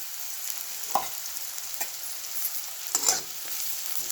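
Onion frying in a little oil for kande pohe: a faint, steady sizzle near the pan with a few distinct clinks and scrapes of stirring, no voices.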